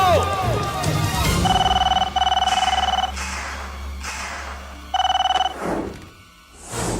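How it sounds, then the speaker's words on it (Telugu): A telephone rings in repeated double bursts during a Telugu action movie scene, loud over a low rumbling score and background voices, with a final ring after a short gap. "నా ఫోన్ రిసీవ్ చేసుకున్నందుకు"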